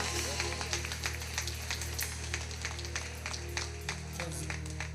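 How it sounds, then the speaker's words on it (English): Congregation clapping in a church service, sharp rhythmic hand claps spaced regularly over a steady low hum, moderately distant and fairly quiet. "clap your hands and give them glory"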